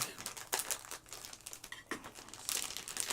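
Close, continuous crinkling of a plastic bag, with bursts of louder rustling and crackling throughout.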